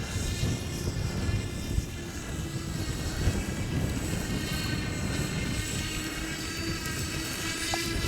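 An RC model OV-10 Bronco warbird airplane taking off with flaps down, a steady droning engine and propeller buzz held at an even level throughout, mid-distance and outdoors.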